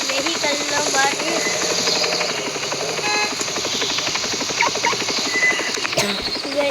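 A helicopter in a Roblox game gives a steady rapid chopping rotor thrum that runs continuously at moderate loudness, with someone talking over it.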